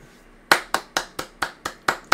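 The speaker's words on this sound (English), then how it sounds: "we gotta give ourselves a round of applause" Eight sharp, evenly spaced hand claps ring out at a slow, steady pace after a short quiet start, each loud and close with a quick decay.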